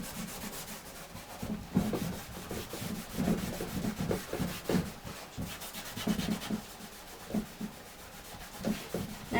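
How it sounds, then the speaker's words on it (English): Clear furniture wax is rubbed into painted wooden furniture with a cloth, producing a steady close scrubbing rasp in uneven back-and-forth strokes, with no talk. "I'm just going to put some clear straight over it and rub it in more."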